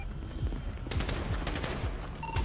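Rapid bursts of gunfire crack out repeatedly in a police-raid video game, several sharp shots spread across a continuous loud mix with no voice over them.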